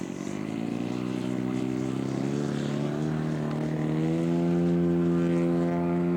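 A scale model aircraft flies in to land at a model plane show, its engine droning steadily with a rising, harmonic buzz that grows louder as it approaches.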